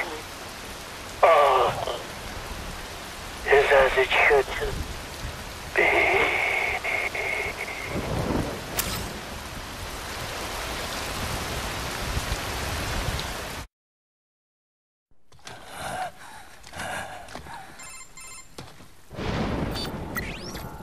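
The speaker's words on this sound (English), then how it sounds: "Wind blows, rain falls." Rain falls and wind blows in a Metal Gear Rising: Revengeance cutscene, a steady hiss broken by a few louder rumbling bursts. It cuts to near silence for a moment, then returns mixed with other scene sounds.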